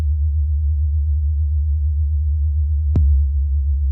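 A synthesized sub bass tone at note D1 hums as a steady, deep, pure drone throughout. One short click or pulse lands near the end.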